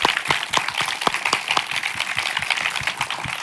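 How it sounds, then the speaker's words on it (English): Applause follows a keynote talk on sustainability, DIY repair and reuse: a modest audience claps in distinct, crisp hand strikes, fairly close and steady throughout. "We would like to have a big applause for you."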